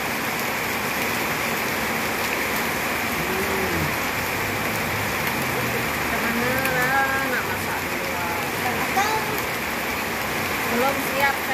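Heavy rain pours outdoors during an outdoor cooking session, a dense steady hiss throughout, with faint voices talking underneath.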